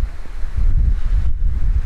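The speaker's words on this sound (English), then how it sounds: "It's just a little bit of a windy day." Steady gusting wind roars close against the microphone on a blustery day beside open water, a continuous low rumble that swells and dips with no talk over it.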